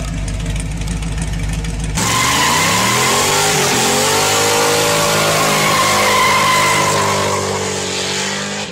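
A 5.7 liter LT1 pushrod V8 in a 1994-1996 Buick Roadmaster station wagon revs loudly up from idle, the engine note rising and holding near and unbroken.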